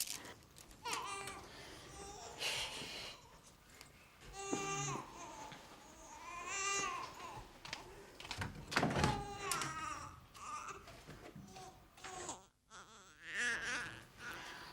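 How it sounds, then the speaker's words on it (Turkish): An infant cries in repeated wailing bursts and whimpers throughout a domestic scene from a Turkish TV comedy series, close and fairly loud, with a door thunk and brief adult speech in between. "Çocuk ağlıyor."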